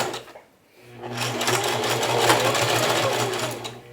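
A sewing machine runs a 3-point zigzag stitch along a t-shirt neck band, a steady close mechanical whir that starts after a brief pause and then hums continuously.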